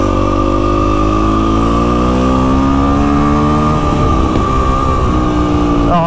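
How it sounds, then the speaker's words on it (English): A motorcycle engine drones steadily and loudly, its exhaust rumbling as the pitch climbs and wavers while riding along. "that exhaust sounds amazing"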